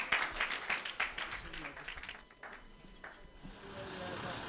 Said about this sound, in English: Let's clap our speakers.